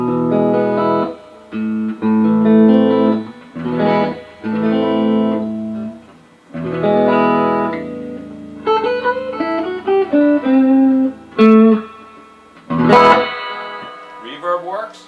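Electric guitar chords and single notes played through a Vox Pathfinder 15R amp with reverb on, each strum ringing out with a washy tail, several phrases separated by short pauses.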